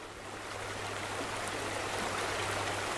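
The White River in Indiana flows by a plain at Mounds Park, making a soft, steady rushing wash that stays even throughout, with no talk.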